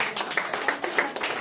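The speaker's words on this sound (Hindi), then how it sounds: "जो ताली बजाओ" A church congregation claps their hands together in a short burst of quick, uneven claps, fairly close and lively, during a worship service.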